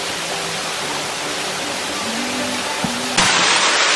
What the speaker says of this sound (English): What do you have to say about the waterfall?